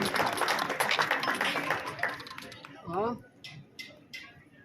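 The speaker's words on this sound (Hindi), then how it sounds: "आप लोग भी जोरदार तालियों से उनका स्वागत करें।" A crowd claps in warm welcome for a guest at a tehsil-level talent honour ceremony. The applause is dense and steady for about two and a half seconds, then thins to a few scattered claps while a voice speaks.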